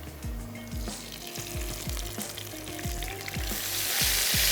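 Garlic and ginger paste frying in a hot pan, a steady loud sizzle with repeated short scraping stirs at a regular pace and no talk.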